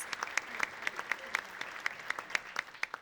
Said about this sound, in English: Please join me in giving all of our speakers a round of applause.